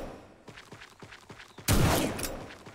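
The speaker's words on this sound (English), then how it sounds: "now we can move around with a shotgun. recoil is quite insane" A shotgun fires in a homemade video game, with a quick run of rhythmic gun bursts followed by one louder, heavier blast that trails off, all close and without talk.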